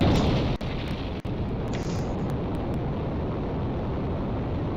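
A fuelled rocket launching in the Minecraft Beyond space mod, a dense, continuous roaring rumble like a sustained blast, loud and steady throughout with a couple of brief cracks early on.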